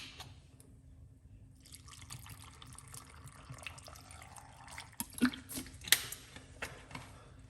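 Alkaline water trickles and drips steadily at close range, with a few sharper splashes near the end and no talking.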